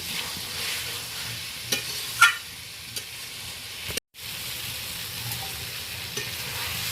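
Eggs and fried potatoes sauté with spices in a pan, giving a soft, steady sizzle with occasional scrapes and light knocks of a stirring utensil. A brief drop to silence interrupts the sound partway through.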